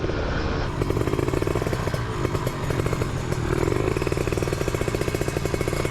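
A Suzuki Satria FU two-stroke motorcycle engine revs hard and close, a loud rapid buzzing rattle that rises and dips in pitch over several seconds.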